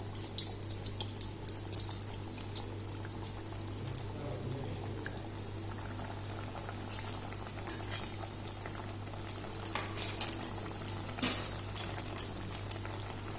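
Hot oil heating in a pan for frying homemade biscuits, with a soft steady bubbling and scattered small pops and crackles, fairly faint over a low constant hum, no voices.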